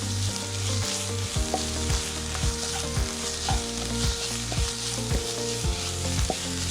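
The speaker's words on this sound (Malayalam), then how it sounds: "ഇനി നമുക്ക് ഈ സവോളയിലേക്ക് 1 table spoon ginger garlic paste ചേർത്ത് നന്നായി വഴറ്റി കൊടുക്കാം" Sliced onions with a tablespoon of ginger garlic paste sauté in a pan for an aloo stuffed chapathi filling. There is a steady close sizzle, broken by a regular rhythm of spoon strokes scraping through the mix, with no talking.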